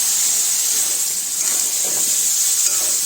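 Spices drop into a hot wok-style pan used for frying fish, producing a loud, continuous hiss and sizzle up close with no voices over it.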